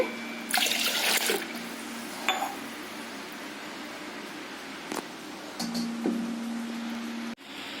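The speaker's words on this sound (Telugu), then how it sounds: "ఒక గ్లాసు పప్పు కొర్రలకి 2 గ్లాసులు వాటర్ పోసుకోవాలండి." Short bursts of water poured into a pot of split moong dal and foxtail millet, with a metallic clink between pours, close by and otherwise quiet.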